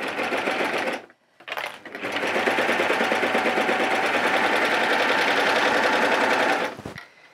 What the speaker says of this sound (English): I've got my serger ready, and I'm just going to go straight across the top